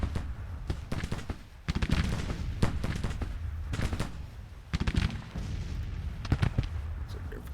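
Rapid volleys of Civil War musket and artillery fire in a video game battle, dense overlapping cracks and booms in irregular bursts, mid-distance, with someone talking over it.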